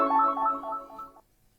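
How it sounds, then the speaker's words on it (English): A farm telephone rings once, a loud electronic trilling tone lasting just over a second, then cuts off into near silence. "I have a phone call on the farm phone now."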